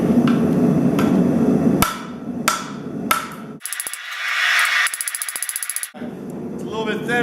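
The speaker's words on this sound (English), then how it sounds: "get it under that hammer and get it. Here it is. So this thing's going to come out here like this. And I'm just going to try to smash it up." A power hammer forges a block of H-13 tool steel into a knife blade, loud heavy blows first, then a rapid rattling burst of repeated strikes, with someone talking over the start.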